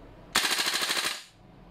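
A Colt-licensed URGI 14.5 airsoft gas blowback rifle fires one full-auto burst of about a dozen rapid, evenly spaced shots. The burst is close and loud, lasts roughly a second, and is followed by quiet.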